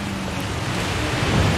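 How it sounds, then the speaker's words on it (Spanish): Rain from a storm in the video game Jurassic World Evolution falls through palm trees, a dense, even wash of rainfall noise with a low rumble underneath, steady and fairly loud with no voices. "Cómo cae la lluvia por las palmeras"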